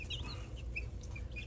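Newly hatched chicks and young game hens in a small enclosure, a dense continuous stream of soft peeping and clucking calls, close and steady throughout with no talk.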